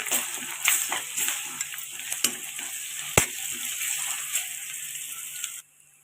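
Turmeric and ginger-garlic paste stirred in a hot frying pan, a steady sizzle with repeated scraping strokes of the spoon close by, ending abruptly, no talking.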